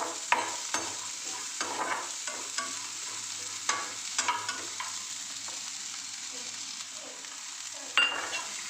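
Dried lotte shutki fries in a pan with a constant soft crackle. Repeated sharp scrapes and taps come from stirring, close up and fairly quiet.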